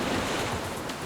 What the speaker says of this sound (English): Killer waves and little access to emergency medical care make these trades very high risk